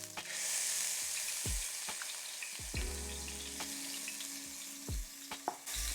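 Chopped ginger and garlic sizzle in hot oil for a karahi potato curry, a steady bright crackle with occasional utensil scrapes as they are stirred, close and moderately loud.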